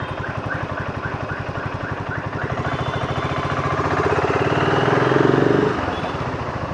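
A BSA Goldstar 650 motorcycle engine pulls steadily under riding, a continuous throbbing mid-pitched drone that swells gradually and drops back slightly near the end, fairly close and loud.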